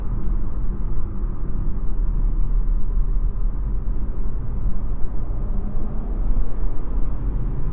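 Steady low road rumble and tire noise inside a 2025 Chevy Trax cabin while driving, a continuous subdued drone with no talking.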